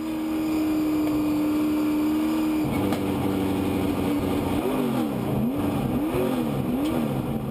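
Onboard a race car, the 132 car driven by Scott Dunning with engine issues, its engine drones loud and close, holding steady then wavering up and down in uneven rising and falling surges.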